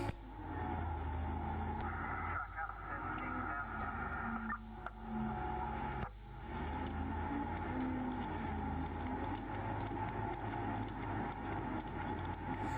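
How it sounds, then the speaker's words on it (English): An underground hardrock mine truck approaches, its engine a low, steady rumble and drone in an enclosed space, faint and continuous, with a couple of brief knocks partway through. "Truck's coming back."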